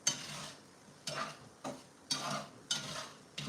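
Potatoes frying in a pan are stirred in five regular scraping strokes about every half second to second, with a soft sizzle continuing beneath, close and fairly quiet.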